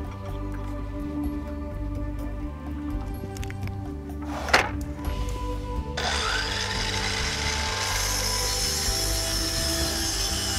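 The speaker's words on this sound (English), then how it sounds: "Adjust the miter saw to a 60 degree angle and cut the angled end of the 2x6." Miter saw set to a 60 degree angle cutting the angled end of a 2x6 board; a sharp knock, then the saw's steady loud whine and cut running for the last several seconds, close by.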